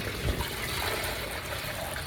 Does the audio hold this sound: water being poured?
yes